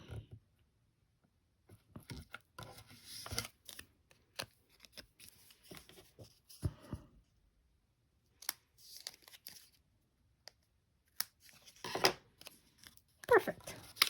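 Scissors trim a stamped paper heart up close, giving a run of short, crisp snips and papery crinkles spread over the stretch, with a few louder cuts toward the end; there is no talking.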